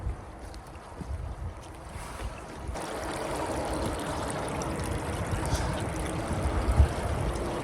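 Soft trickling and splashing of water in a small stream, gently continuous and nearby, with faint outdoor background noise.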